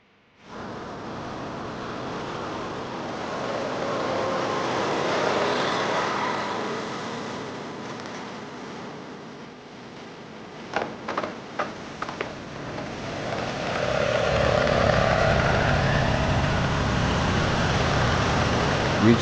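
A 600-ton, 100-meter heavy transport pulled by tractors creeps through a tight corner, a steady low rumble of engines and machinery with a brief run of sharp ticking clicks midway, rising louder toward the end.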